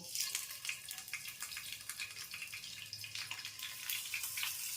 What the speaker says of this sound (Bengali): এবার আমরা আস্তে করে বেগুনগুলো দিয়ে দেব